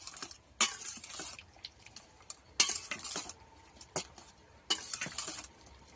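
Dried fish (shutki) washed by hand in a bowl of water, irregular close bursts of sloshing and clattering against the bowl with quiet gaps between, no talking.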